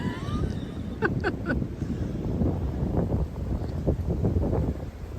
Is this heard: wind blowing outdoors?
yes